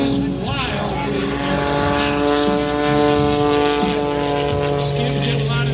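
At an airshow, the aerobatic airplane Prometheus drones overhead with a steady engine tone that shifts slightly in pitch, while a commentator talks throughout.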